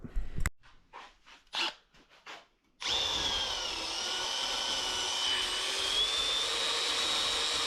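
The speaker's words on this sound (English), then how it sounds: "We're just gonna tack weld this so it stays put." Tack welding a cracked bottom section of an oil-holding part clamped in a vise, as a steady, loud welding hiss and crackle that runs without a break for about five seconds after a few short bursts of clatter.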